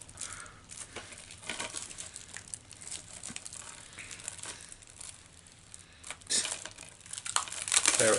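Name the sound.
unwrapping packaging of a video game copy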